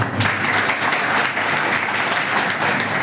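A crowd at a Congress election rally in Hadad village claps steadily in thick, continuous applause to welcome candidate Geniben Thakor, with no breaks across the moment.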